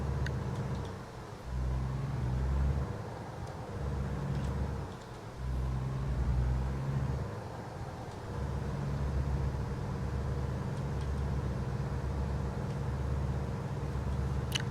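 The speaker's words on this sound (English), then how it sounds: "I do enjoy the sound in this, the truck noises" Truck engine in American Truck Simulator, a steady low diesel rumble that holds loud and even throughout, with brief dips as the revs shift and no voices.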